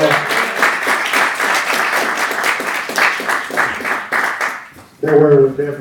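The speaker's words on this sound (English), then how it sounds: "All right, let's give Pastor Shannon one round of applause." Church congregation applauding Pastor Shannon at a men's conference, dense steady clapping from many hands for about four seconds, fading out before a voice starts speaking at the end.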